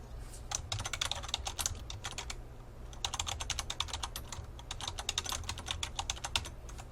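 Steady, rapid typing on a computer keyboard, close and clear, with a short pause near the middle before the keystrokes resume at the same brisk pace.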